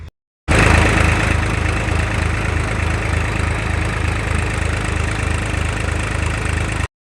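A Massey Ferguson 245 DI tractor engine starts abruptly after a short silence and runs loud and close in a farm setting, a steady diesel chug with a regular low thumping rhythm that holds to the end.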